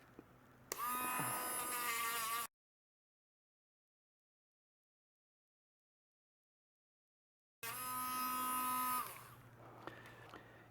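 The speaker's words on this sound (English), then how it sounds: "You're going to take the Dremel and you're going to start rounding all the edges off." A Dremel rotary tool rounds the edges of an antler button with a high, buzzing whine in two bursts of about two seconds each, separated by a long silent gap, close and fairly loud with no talking.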